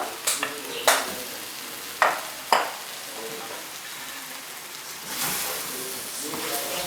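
Vegetables and tofu in a ratatouille being stirred in a hot oiled pan with onion: several sharp scraping strokes and clatters over a steady soft sizzle, with a louder hiss swelling near the end.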